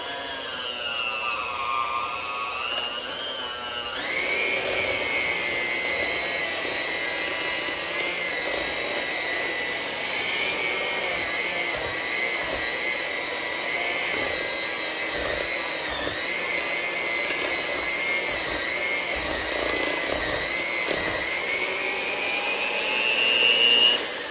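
An electric mixer beats strawberry cake batter with fresh strawberries mixed in, giving a steady, close motor whine that runs without a break and shifts slightly in pitch as it works, with no talking.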